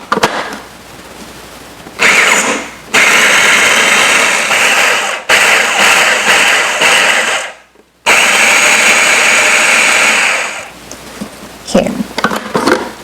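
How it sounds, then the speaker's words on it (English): A food processor chops mango chunks for sweet mango chutney, its motor roaring loud in several long pulses separated by short pauses. "and I'm going to add this mango chunks. Chop in fine bits."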